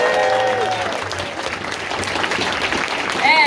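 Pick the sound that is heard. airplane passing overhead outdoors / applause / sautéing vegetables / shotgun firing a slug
applause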